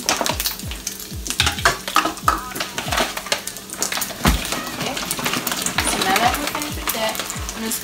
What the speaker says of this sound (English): Take a spoon just to mix it around a little bit.